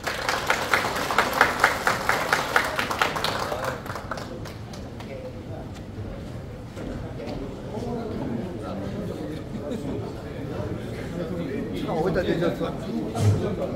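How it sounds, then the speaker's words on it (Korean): Audience applause at a Gyeonggi Province football association meeting, a dense burst of clapping in the first few seconds that gives way to murmuring and talk from the room. "네, 박수 부탁드립니다."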